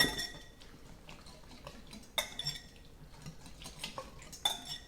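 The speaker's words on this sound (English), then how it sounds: "I'm going to take my whisk right here, and I'm just going to whisk all of these ingredients together" Light metallic clinks and taps of a whisk against a bowl as honey and spices are mixed together, quiet and irregular with a few sharper knocks.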